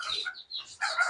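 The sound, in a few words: white desi hen with chicks clucking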